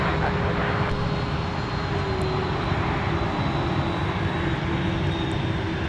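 Airliner taxiing at Minneapolis–Saint Paul airport in winter, a steady, loud engine roar and whine that holds throughout with no break.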